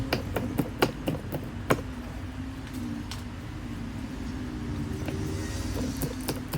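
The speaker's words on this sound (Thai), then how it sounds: "หั่นพริก นะครับ หั่นแบบขวางขวางนะครับ" A kitchen knife chops chili peppers crosswise on a cutting board, making a quick run of crisp, close taps that thin out to occasional strokes over a steady background hum.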